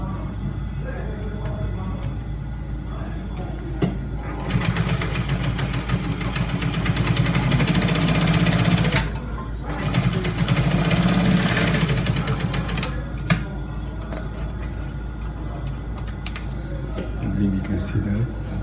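Sewing machine stitching trouser fabric in two loud bursts of several seconds each, over a constant low hum of background noise, with talking nearby.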